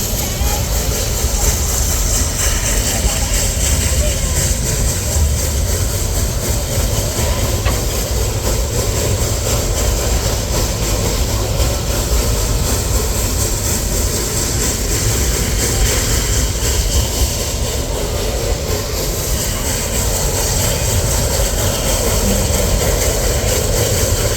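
A high school locomotive pulls a train away from a stop on a steep 7% grade, a loud, steady, close rumble of engine and rolling cars continuing unbroken throughout.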